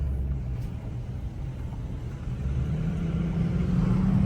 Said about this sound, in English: The fan clutch is on now.